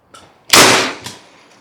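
A defensive airgun loaded with a cartridge in the breech fires a single shot at a target: one loud, sharp crack with a brief decaying tail, preceded by a faint click.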